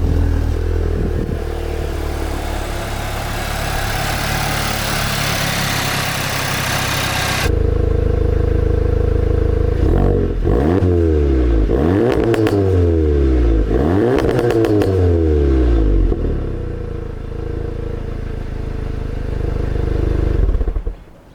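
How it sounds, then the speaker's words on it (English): A Ford Focus ST hatchback starts up and revs, its engine rising and falling through several loud throttle blips with a deep, throaty exhaust note after a steady idle-like rumble, close and with no talk. "the ST definitely has a better exhaust note"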